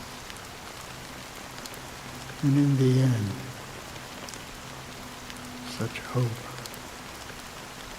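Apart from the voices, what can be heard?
rain falling in video game Honkai: Star Rail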